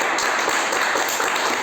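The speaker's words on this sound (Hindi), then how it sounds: "आप कलाकारों को प्रोत्साहित करने के लिए इनको जोरदार तालियां दे सकते हैं।" A theatre audience at the Bharat Rang Mahotsav 2025 applauds the actors of the play Pancham Ved with loud, dense, continuous clapping that fills the whole moment, with no speech over it.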